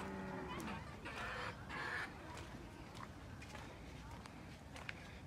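Chickens at an agritourism farm, a few clucks near the start over outdoor ambience, with footsteps and faint background talk following.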